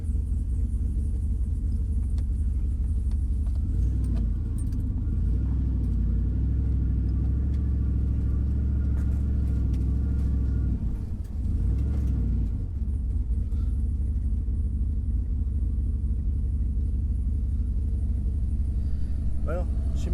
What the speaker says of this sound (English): here's our initial test drive around the neighborhood